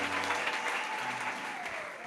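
Church congregation applauding together in sustained, dense clapping that fills the room, with a faint voice and a sustained tone audible underneath.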